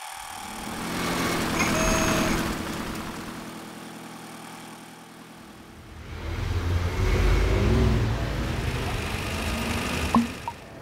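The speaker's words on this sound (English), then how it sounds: "This place is dominated by cars and traffic" Traffic at a square in Hamburg, with cars and trucks passing close and loud, engines rising and fading in two broad swells and a brief beep near the end.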